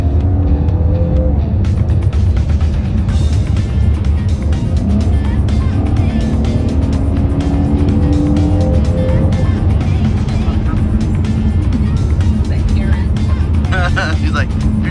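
A silver Chevrolet Camaro driven hard through corners sets up a loud, continuous engine roar and road noise inside the car, with people talking over it.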